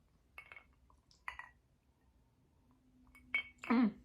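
Glass clinks a few times in brief sharp taps while someone handles a drinking glass to take a sip, spaced out over a quiet background with a soft low hum.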